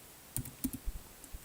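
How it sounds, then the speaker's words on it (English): Typing code on a computer keyboard: a few crisp, close key clicks in a quick, uneven burst, then two more taps after a short pause. "then when you start typing"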